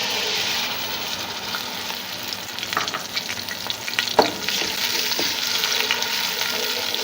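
A cup of onions frying in hot oil in a pan, a loud steady sizzle with crackling and a few scraping stirs and one sharp knock partway through, close and without talk.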